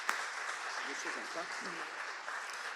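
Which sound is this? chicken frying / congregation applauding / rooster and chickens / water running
congregation applauding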